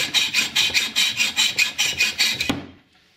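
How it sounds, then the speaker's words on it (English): Hacksaw cutting the heads off metal pins for Viking-style brooches, about twelve rhythmic rasping back-and-forth strokes, close and loud, then stopping abruptly. "so I just cut them off with a hacksaw."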